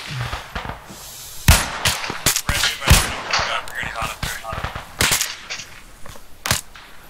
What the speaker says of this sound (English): Patrol firing in your position.